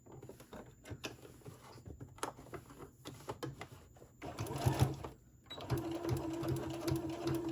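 A sewing machine backstitches a seam on a fabric face mask in short, rattling bursts with brief stops, then speeds into a longer, busier run near the end.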